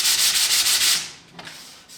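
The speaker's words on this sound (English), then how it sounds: "It sands super, super easily." Sandpaper rubs filler on a model rocket body in about six quick, loud back-and-forth strokes up close. The scratching then eases off into a few faint touches.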